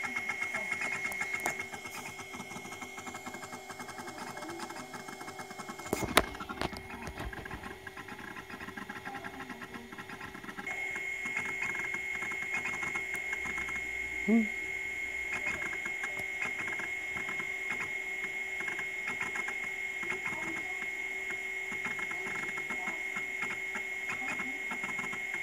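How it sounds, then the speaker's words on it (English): A MiniScribe hard drive's stepper motor runs as the drive is exercised, making a steady mechanical whirring with a sustained tonal hum, a sharp click partway through and a small knock later, close and moderately quiet. "what I'm doing here is effectively exercising the drive"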